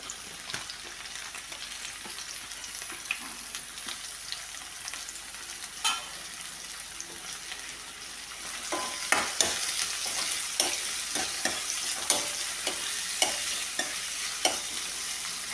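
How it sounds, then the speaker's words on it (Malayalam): Onions frying in a pan with spices for a thick fish curry made without ground coconut, a steady sizzle with scraping stir strokes and sharper clinks growing more frequent toward the end, no voices. "ഇനി ഇതിലേക്ക് സവോള കൂടി നമുക്ക് ചേർത്ത് കൊടുക്കാം"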